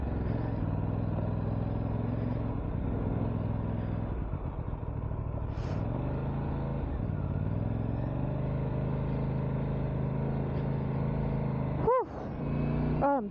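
An Aprilia RS457 motorcycle is ridden, its engine droning steadily with pitch rising and falling through gear changes, heard close over wind noise, with a brief rev near the end.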